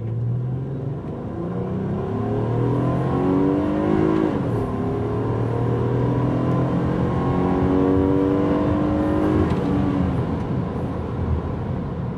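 A 2010 Honda Accord Crosstour V6 engine revs up steadily under acceleration, its pitch climbing through several rising sweeps, loud and close with a smooth continuous whir.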